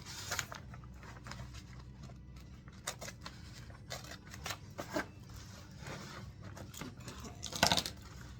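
Lampshade material for a Western cowboy lampshade is cut to overlap, giving scattered light snips and clicks at close range over a quiet background.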